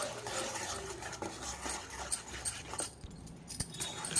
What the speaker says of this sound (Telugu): ఈ రెండు బాగా విస్కర్ సాయంతో ఇలా బాగా కలుపుకోవాలన్నమాట